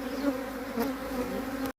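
Honeybees from a freshly split hive, divided off from another colony with three frames, buzz in a dense, steady drone close by, cutting off abruptly just before the end.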